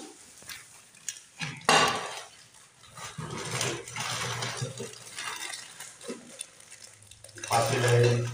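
Metal utensils from a construction workers' welfare kitchen kit, including a kadhai, pots, plates and glasses, clank and rattle in scattered bursts at close range, with a louder clatter near the start and a ringing knock at the end.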